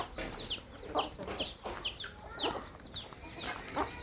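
Several chickens clucking nearby in short, irregular bursts over a faint outdoor background, with no talking; a red rooster is among them.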